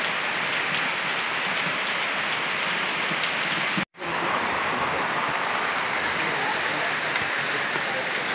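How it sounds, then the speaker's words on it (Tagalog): Heavy rain pours down steadily, a dense, loud hiss of drops on surfaces filling the scene, broken by one brief dropout midway before the downpour resumes at full strength. "Grabing ulan na to"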